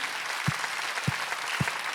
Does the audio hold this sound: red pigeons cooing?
no